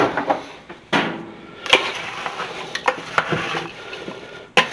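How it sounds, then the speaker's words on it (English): Homemade apple sauce stirred in a pot on an electric stove, with irregular scraping and knocking of a utensil against the pot and soft sloshing between the louder clinks. "Now I'm going to take and stir this up."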